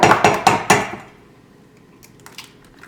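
Eggs for banana muffins are cracked against a hard edge, giving four quick, loud, close knocks in a row, then near quiet with faint shell and handling sounds.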